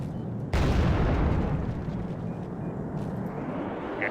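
A bomb blast from an air force strike in the strategy game Wargame: Red Dragon, a sudden heavy explosion bursting in after a low rumble and then fading into a long, loud rolling roar.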